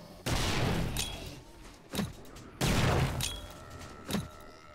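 Grenades go off in the survival game 7 Days To Die, two long, loud blasts with a rumbling tail, each followed about a second and a half later by a shorter, sharper burst.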